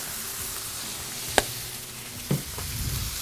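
Onions frying on a Blackstone griddle for Bayou gumbo, a steady soft sizzle with a couple of sharp scraping clicks from a utensil.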